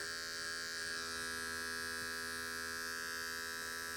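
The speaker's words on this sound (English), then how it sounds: "I'm using the 3-0 position on my adjustable clipper." An adjustable electric hair clipper set to the 3-0 position buzzes steadily and close up while cutting a man's hair into a disconnected side part with an undercut. The motor hum stays even and unbroken, with no talking.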